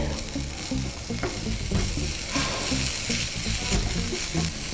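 Onion and ginger-garlic paste sizzle steadily in hot oil, with soft stirring scrapes now and then and a constant crackling hiss, while cooking filling for chicken cheese bread rolls.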